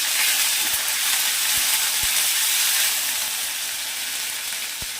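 Ginger garlic paste frying with browned onions in a pan, giving a loud, bright, constant sizzle and hiss close by, with a few faint stirring knocks and no speech.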